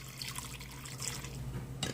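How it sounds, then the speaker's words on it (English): A flour and water mixture is poured into a slow cooker holding pork shoulder, giving a steady wet splashing pour that ends in a brief louder splash. "pour flour and water mixture in there."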